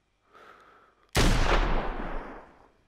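A single loud, sharp gunshot boom in a VR shooting game, following a faint rustle and then decaying over about a second and a half.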